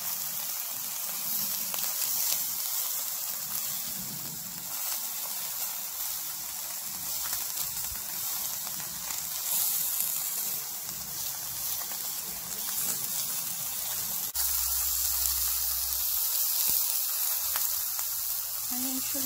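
Mushrooms and pork belly sizzle on a grill in a continuous hissing, crackling spatter, steady and close, with a brief low thump near the end.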